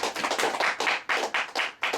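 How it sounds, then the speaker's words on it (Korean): A church congregation gives a short round of clapping, bursts of hand claps in uneven pulses, close and fairly loud, with no voices over them. "오늘 박수 한번 주십시오"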